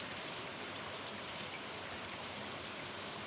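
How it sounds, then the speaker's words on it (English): Steady rain falls outdoors, a faint continuous hiss of drops on surfaces with no voices. "it's raining today"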